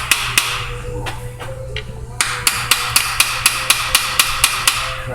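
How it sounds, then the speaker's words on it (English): A metal hammer taps sharply on an Infiniti car part near the rear main seal, slow at first then in a steady quick rhythm of about a dozen ringing strikes, close up. "Little hammer persuasion"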